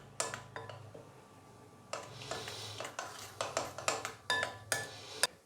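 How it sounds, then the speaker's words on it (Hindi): Vegetables, finely chopped coriander and tomato are being mixed into besan gram flour batter, with a spoon clinking and scraping against the bowl in repeated close strokes and short pauses between bursts. "अभी हम इन सारी चीज़ों को बेसन के अंदर अच्छे से मिक्स करेंगे।"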